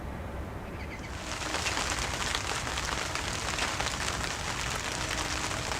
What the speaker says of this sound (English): the heavens opened and we had a couple of days of really heavy rain